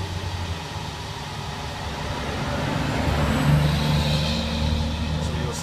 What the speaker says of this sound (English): So you'll see lots of these belly dump trucks around.